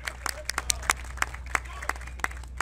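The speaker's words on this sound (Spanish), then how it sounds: "muchas gracias por su presencia, por sus aplausos" Scattered hand claps from an audience at an outdoor event, a loose patter of individual claps rather than a full ovation, heard at moderate distance over a steady low hum.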